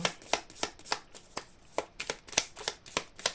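Oracle cards being shuffled by hand, a steady rhythm of crisp riffling snaps about three per second, close and clear with no talking.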